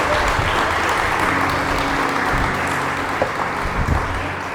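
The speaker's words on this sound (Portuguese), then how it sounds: "dá um brado de vitória aí e uma salva de palmas bem forte para Jesus." A church congregation applauds loudly and steadily during a Sunday service, a dense wash of clapping that continues throughout and fades slightly at the end.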